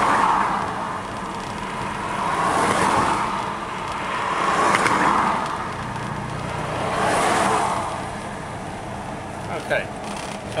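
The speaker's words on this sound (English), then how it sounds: "Cars go past them" Several cars pass along a rural road near Karapiro and Arapuni, Cambridge, New Zealand, one after another, each swelling and fading as it goes by, with a steady background of traffic.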